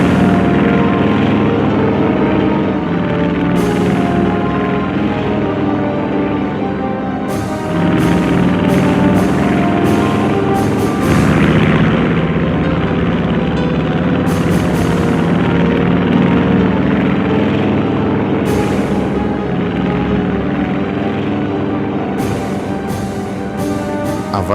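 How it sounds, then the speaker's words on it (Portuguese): A large formation of WWII Japanese fighters, bombers and torpedo planes takes off, a loud, continuous drone of propeller engines with periodic swells as aircraft pass, no talk. "a primeira vaga de 183 caças, bombardeiros e torpedeiros, comandados pelo capitão Mitsuo Fuchida, levantou o voo."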